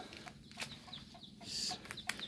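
Guinea fowl on a farm calling, a faint scatter of short, sharp clucking calls repeating irregularly over a soft background hum.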